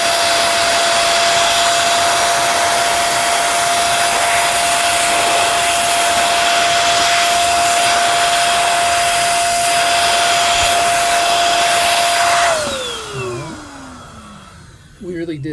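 A hair dryer blows steadily at close range onto a soaked Razer DeathAdder V2 mouse, a loud constant whine that winds down as it switches off near the end, with no talking.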